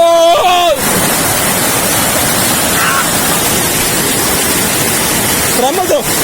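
Gejje waterfall roars with a continuous loud rush of falling water close by, a dense unbroken wash of noise, with brief voices at the very start and end.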